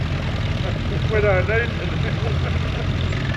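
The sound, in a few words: vintage petrol tractor engine idling at a parade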